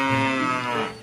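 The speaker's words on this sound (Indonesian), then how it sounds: "masih ada suara sapi lagi teman-teman di sini." A single drawn-out cow moo from a pink cow toy, loud and close, lasting about a second with no talking.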